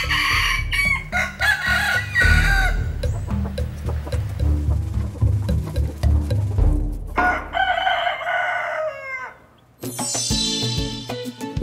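Feral roosters in Key West crow loudly and repeatedly, with hens clucking around them, several birds close by in overlapping calls through the whole stretch.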